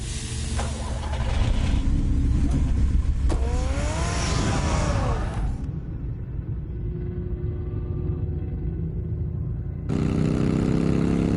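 A car engine in a Batman video game roars and revs, with tire noise and a passing whoosh, then drops to a lower steady hum before surging loudly again near the end; a voice briefly speaks over it.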